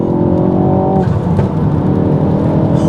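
A Mk4 Ford Focus ST with a Stage 2 tune roars continuously at high revs under full-throttle acceleration in third gear from 3,000 rpm, loud and close, with a steady rising drone throughout.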